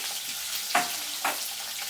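Chopped onion frying in hot oil, a steady bright sizzle with two brief louder crackles as pieces are stirred, close and alone with no voices.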